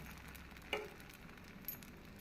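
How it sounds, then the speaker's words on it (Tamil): Onion uttapam batter hits a hot dosa pan with a faint, short sizzling hiss, followed by quiet crackling in an otherwise hushed kitchen. "தோசை சட்டி நன்கு காய்ந்ததும் நாம் தோசை மாவை இதில் ஊத்தப்பம் போல் ஊற்ற வேண்டும்"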